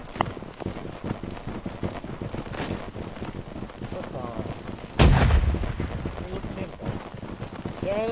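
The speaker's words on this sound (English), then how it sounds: "Cannon shot, be careful." A loud boom of cannon fire bursts out midway over steady wind and game ambience in a Holdfast: Nations At War line battle, with faint voices talking in the background.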